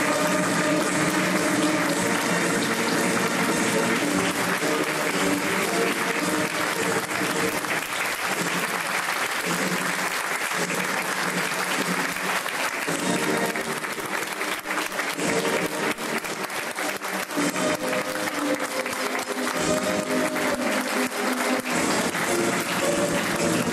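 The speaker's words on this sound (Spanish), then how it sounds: "Para todos ustedes este fuerte aplauso." Sustained, dense applause fills a room at a celebration, many hands clapping loudly and evenly for a long stretch with crowd murmur blended underneath.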